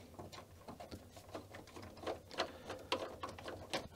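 Screws are driven by hand into the plastic case of a Commodore C64G computer, making a close series of small scratchy clicks and ticks in an irregular rhythm, quiet and with no talking.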